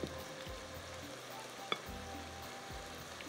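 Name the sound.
onions frying in a pan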